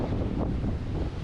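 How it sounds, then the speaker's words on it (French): Strong sea wind on the coast of Tenerife, Canary Islands, buffeting the microphone with a constant low rumble and roar, no voices, continuous for the whole moment. "aujourd'hui, il y a énormément de vent. Il y a un gros vent de côté"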